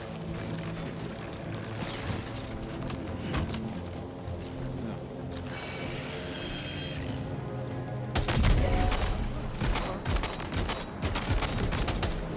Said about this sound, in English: The enemy heard a gunshot, you think?